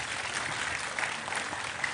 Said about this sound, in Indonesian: Sekali lagi tepuk tangan untuk Mbak Puan